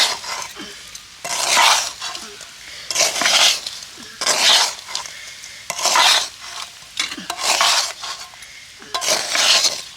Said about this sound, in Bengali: নিচে নামিয়েও অনবরত এইভাবে নাড়তে হবে।